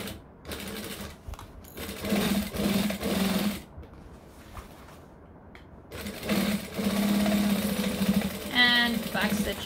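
A sewing machine stitches a tote bag in bursts of rapid, even mechanical whirring, stopping and restarting between runs, close and fairly loud, with a brief voice near the end.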